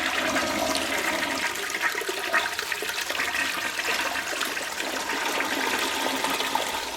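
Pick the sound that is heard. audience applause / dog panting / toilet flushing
toilet flushing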